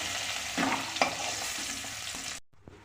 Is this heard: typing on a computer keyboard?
no